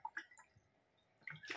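Tap water runs briefly into a drinking glass in a home kitchen in Germany, a faint splashing with small drips that is quiet at first and swells louder near the end.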